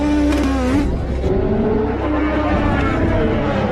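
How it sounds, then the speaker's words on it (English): IndyCar race cars roll off and accelerate at the 2013 Toronto street race, Round 13 Race 2: a loud, dense engine drone with shifting harmonic whines rising and falling, steady throughout. "Live in-car cameras. Race car rolling."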